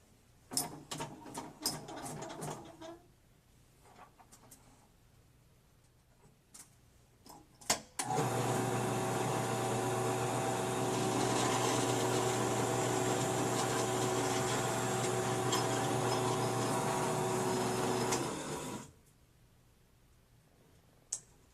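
A 10 mm drill bit boring out threads inside an acrylic fountain pen body, a loud steady whirring grind lasting about ten seconds, preceded by scattered clicks and handling noises.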